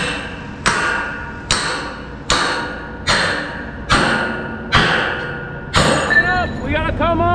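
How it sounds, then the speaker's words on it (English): A hammer pounds out the pins of a tower crane during teardown in Rochester, Minnesota, with a Grove GMK 6450 mobile crane on site. Seven loud, close metallic blows land at a steady rhythm, each ringing briefly before the next. "Hammer it out. Pound it out."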